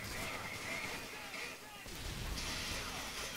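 Grenade blasts and gunfire in a Call of Duty: Modern Warfare 3 multiplayer match form a dense, rumbling barrage of explosions, moderately loud and continuous through the few seconds.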